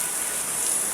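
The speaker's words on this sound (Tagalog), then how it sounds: "Medyo palakas ang ulan, no?" Dense, steady hiss of heavy rainfall, loud and constant with no pauses.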